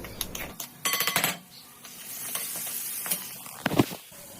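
Sliced onions frying in oil in a pan for carrot upma, a brisk sizzle with scraping stirs and clinks of a utensil against the pan, close and steady.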